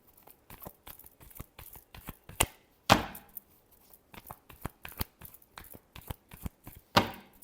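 A deck of tarot cards is shuffled by hand in rapid irregular bursts of crisp riffling and slapping, with a few sharper snaps standing out, close and fairly quiet with no talking.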